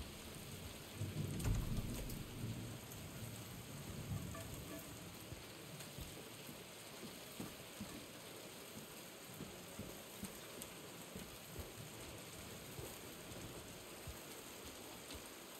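Steady rain pours throughout a Silent Hill 2 Remake game scene, opening with a loud rolling rumble of thunder that fades into a constant patter of raindrops, with no voices.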